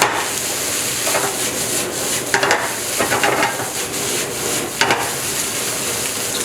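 Egg and rice being scraped and tossed together in a hot pan for fried rice, a continuous sizzle broken by several rough scraping strokes of a utensil against the pan, close and fairly loud.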